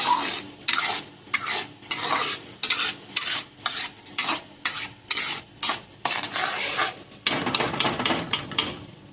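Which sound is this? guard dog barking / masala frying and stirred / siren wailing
masala frying and stirred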